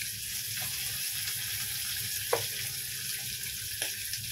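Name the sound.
fish frying in oil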